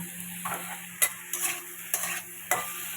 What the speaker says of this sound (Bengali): নারকেলটা ভাজার মধ্যে দিয়ে দিয়েছি